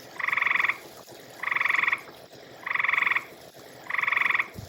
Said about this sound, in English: there's a frog sitting there. So this guy makes a racket.